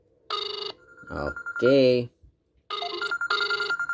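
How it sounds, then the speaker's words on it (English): A phone rings from a call placed by a Colmi P71 smartwatch, giving loud repeated ringtone bursts in a steady pattern. A voice speaks briefly between the rings. "Again, it's calling this phone."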